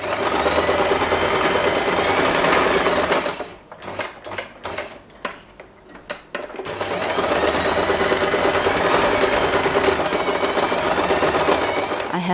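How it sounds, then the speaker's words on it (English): Sewing machine stitching an elastic band for a scrunchie, running in a loud steady whir that breaks off into short bursts and stops midway, then resumes and runs continuously to the end. "We are going to join it together and randomly sew this part."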